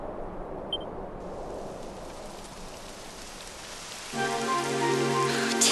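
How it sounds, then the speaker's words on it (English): Rain begins falling in the video game Dragon Quest XI: a soft, steady hiss of rainfall builds, then a musical tone enters near the end, and no one speaks. "Typical. It would have to go and start raining, wouldn't it?"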